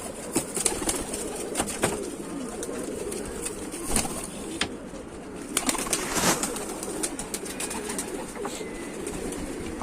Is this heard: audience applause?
no